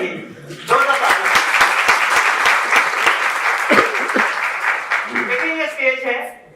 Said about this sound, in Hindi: जरा तालियां बजाइए, जोरदार तालियां